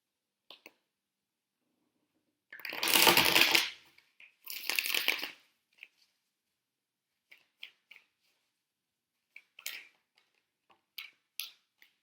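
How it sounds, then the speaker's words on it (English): Tarot card deck being shuffled, two dense riffling bursts close up, followed by scattered soft clicks and taps of cards settling. "Spirit wants me to shuffle this deck once before I get started"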